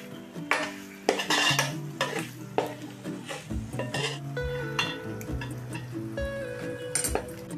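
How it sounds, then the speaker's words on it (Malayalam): Masala for a duck roast stirred in a pan with a metal spoon, a busy run of scraping clinks and knocks against the pan over a soft sizzle. "നല്ലോണം ഇളക്കി ഈ മസാല എല്ലാം ഇതിൽ പിടിപ്പിക്കുക."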